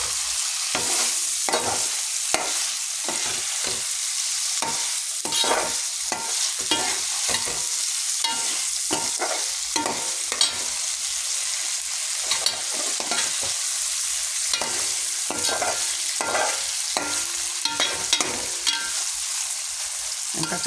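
Dried fish and drumstick curry frying in a pan is stirred steadily, a utensil scraping and clinking against the pan in irregular strokes over a constant close sizzle, with no talking.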